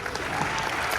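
Audience applause fills a Disneyland Paris press conference for a Christmas event, a dense steady clatter of clapping hands, close and loud, with no voices over it.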